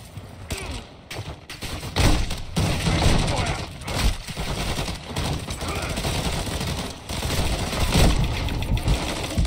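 Dense gunfire from Call of Duty MW2 DMZ rattles nonstop with rapid bursts and overlapping shots, loud and close, while a voice speaks now and then beneath the shooting.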